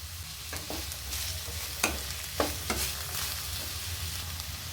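Cabbage, beans, carrot and capsicum sauté for schezwan veg fried rice, a steady close sizzle with stirring and a few sharp spatula scrapes against the pan, no talking.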